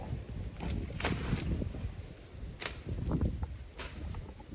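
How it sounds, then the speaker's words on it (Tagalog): Gusty wind in a forest buffets the microphone in low rumbling bursts, with a few sharp rustling flutters rising and fading, fairly loud and without speech. "malakas talaga ng hangin dito guys"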